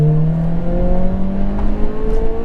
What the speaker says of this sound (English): we're gonna hit VTEC one more time here